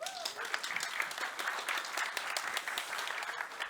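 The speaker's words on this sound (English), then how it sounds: "let's have a round of applause for them." Audience applause at a tech conference talk: a steady, dense wash of clapping from a sizable crowd, even in loudness throughout and heard from a moderate distance.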